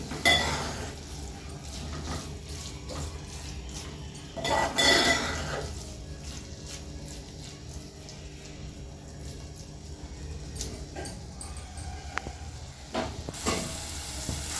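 Amaranth leaves (thotakura) frying in a pan, a soft steady sizzle with occasional clinks and scrapes of a spatula against the metal, close and fairly quiet, with no talking.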